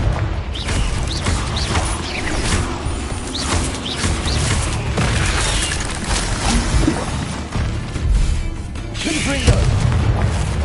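Confringo blasting spell explosions in the video game Hogwarts Legacy, loud booming bursts with crackling, crashing debris that follow one another over a dense, busy combat soundscape, and a voice heard faintly in among them.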